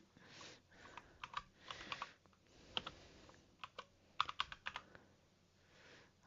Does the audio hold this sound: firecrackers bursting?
no